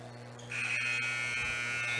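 A basketball game-end buzzer at a high school game sounds loud and steady, a harsh electronic tone starting sharply about a quarter through and holding to the end over gym crowd noise.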